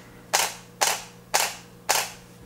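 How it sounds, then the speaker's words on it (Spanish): A camera shutter set to 1/500 second fires four times at an even, steady rhythm, each a crisp, loud, close snap with no voices. "cuando yo disparo con una velocidad de 1 sobre 500"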